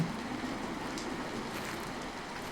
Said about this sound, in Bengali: বৃষ্টি আরে জোরে আসছে